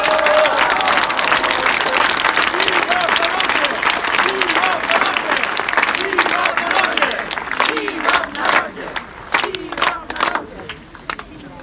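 Sustained audience applause at a rally in Poznań defending the independence of the courts, dense clapping from a large crowd that stays loud, then thins into more scattered claps near the end.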